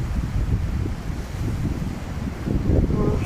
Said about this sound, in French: il fait un peu froid ce matin sur la plage. Le vent est un peu frais